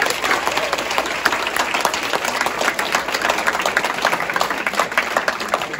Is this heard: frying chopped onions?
no